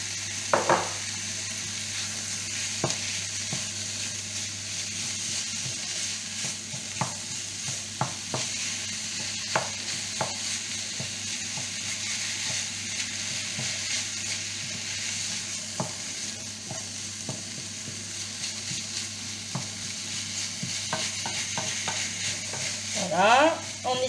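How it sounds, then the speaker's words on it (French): Minced meat fries in a pan for stuffed cannelloni while being stirred and broken up, a steady close sizzle carrying scattered utensil scrapes and taps and a busier clatter near the end, no one speaking. "Voilà, on essaye au maximum d'émietter la viande."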